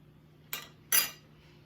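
Cutlery clinks against a plate while scooping eggs, sausage and Valentina hot sauce: two brief, close metallic taps a fraction of a second apart, the second louder, over a quiet room.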